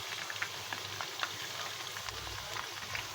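Quiet, steady sizzling of potatoes frying in hot oil, with soft crackles and pops scattered throughout.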